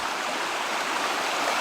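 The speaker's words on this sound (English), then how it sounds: "So we got some nifty stream crossings." Steady broadband rush of a creek stream where a hiking trail crosses it, continuous and fairly close, with no voices.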